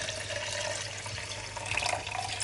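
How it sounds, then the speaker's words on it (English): Warm water pours into a blender while coconut oil is being made at home, a continuous splashing rush that holds steady, then swells slightly near the end. "So I'm going to be pouring some of the water in here."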